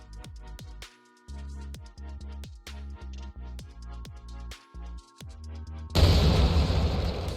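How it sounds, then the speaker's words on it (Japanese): A bomb detonates in an Unreal Engine 5 game with a sudden loud, broad burst and rumbling noise, after a run of repeated synthetic tonal hits. "爆発して消えましたね。"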